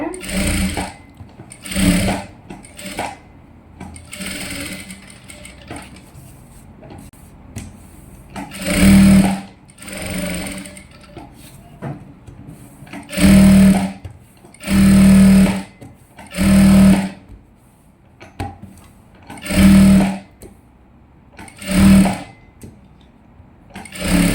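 Sewing machine stitching a silk (pattu) skirt for a young girl, running in repeated short bursts of whirring stitches separated by pauses as the fabric is pulled through, close and fairly loud, with a person speaking between runs.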